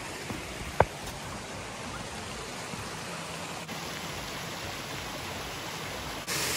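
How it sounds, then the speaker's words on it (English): A shallow stream in Northern Ireland, running low after little rain, gives a faint, steady hiss of trickling water. A brief tap sounds near the start, and no one speaks. "we're walking up a stream, but there's not much rain recently, so we're able to walk on the stream"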